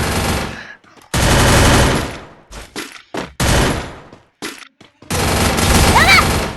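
Rapid automatic gunfire bursts in the Free Fire video game, loud and close, broken by short pauses between volleys, with excited talk over parts of it.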